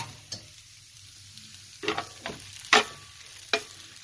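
Gentle sizzling of pasta in a pan with several short bursts of stirring and scraping, close by, with no one speaking.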